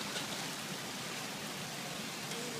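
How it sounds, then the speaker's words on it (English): Heavy rain pours down in a dense, unbroken hiss during the 2013 Boulder flood, steady throughout with no voices. "it's still raining hard"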